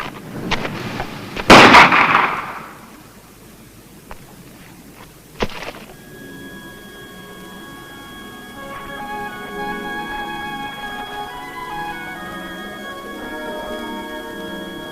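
Gunshots ring out, a loud close blast followed by a second sharp shot a few seconds later, then a fading ringing tail and quiet hum.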